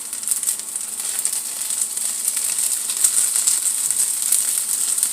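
Food browning in a pan gives off a steady, close sizzle, a bright frying hiss with faint crackles and pops and no voices.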